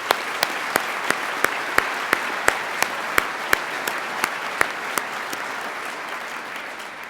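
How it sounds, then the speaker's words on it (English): Graduation ceremony audience applause for the students of a 2018 Central Lakes College technical program, heard as sharp, evenly spaced claps repeating in a steady rhythm over a soft background wash. "Let's give all of those terrific students a round of applause,"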